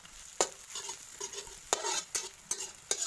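Onions browning in oil in a pan with a steady sizzle, broken by several sharp stirring scrapes and crackles at irregular intervals; no talking.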